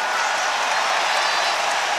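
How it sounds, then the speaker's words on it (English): Dense, steady crowd applause fills a large arena at a K-1 kickboxing event between rounds of a 2008 Badr Hari versus Errol Zimmerman fight, loud and continuous with no voices standing out. "Listen to the applause."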